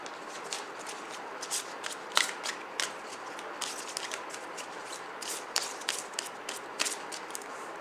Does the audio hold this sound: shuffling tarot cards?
yes